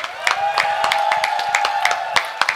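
An audience at the Microsoft Excel World Championship 2023 finals applauds the second place winner, a sparse scattering of claps over a steady crowd murmur, with some voices mixed in.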